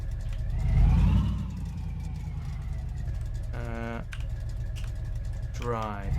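A car engine with an automatic gearbox idles steadily in a garage game, revving briefly at the start, with a few rising electronic beeps and a voice speaking over it.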